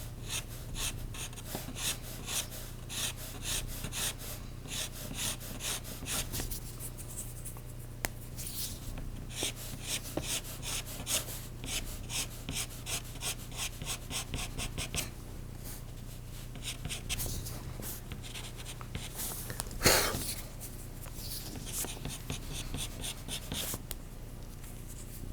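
Pastel crosshatched vertically on paper during portrait work, a steady close scratchy rubbing of repeated short strokes running throughout, with brief pauses and a louder scrape near the end.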